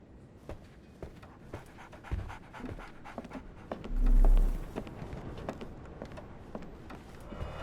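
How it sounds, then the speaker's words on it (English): A dog in the game Sherlock Holmes The Awakened pants rapidly and rhythmically, close and clear, with a low thump partway through and no speech. "So, Barnes has a dog now."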